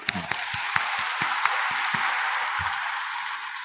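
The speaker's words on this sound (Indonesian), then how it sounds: "mari kita tepuk tangan" A church congregation claps steadily for a new parish priest, dense applause filling the space, with a few sharper individual claps standing out near the start.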